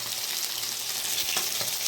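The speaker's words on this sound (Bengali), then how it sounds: "শাক ভাজা" Leafy greens fry in a pan with a continuous close crackling sizzle, loud and unbroken for the whole moment.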